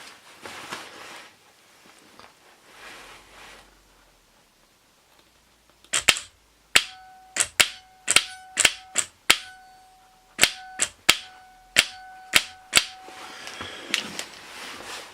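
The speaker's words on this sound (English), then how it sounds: "this bit pops out as it should do, and then it should spin, but it doesn't" A Britax Mini starter motor's Bendix gear pops out without spinning, producing a rapid series of about a dozen sharp, loud mechanical clicks and snaps at close range after a quiet stretch.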